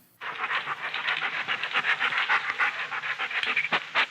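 A puppy sniffing busily up close, quick short breaths in a steady, rapid run with no pauses.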